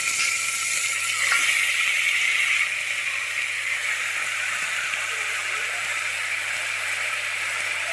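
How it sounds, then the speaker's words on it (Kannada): Food fries in a pan with a steady, close hiss and sizzle that holds evenly throughout, with no other sounds. "ಥರ ಚೆನ್ನಾಗಿ ಫ್ರೈ ಮಾಡ್ಕೊಳ್ಬೇಕಾಗುತ್ತೆ ಅದಾದಮೇಲೆ ನಾನು ಮಟನ್ ಆ್ಯಡ್ ಮಾಡ್ತೀನಿ"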